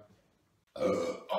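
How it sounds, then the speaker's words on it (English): A single loud, wet burp erupts up close while someone is eating chicken nuggets, lasting under a second after a quiet pause. "I think I just burped and threw up at the same time."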